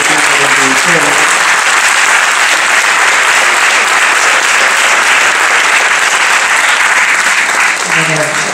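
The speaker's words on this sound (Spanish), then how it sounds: "creo que, merecen un, un aplauso." Steady, loud audience applause fills the room at a film premiere ceremony at the Museo del Bicentenario. The clapping continues without a break for the whole stretch, with a faint voice at the start and end.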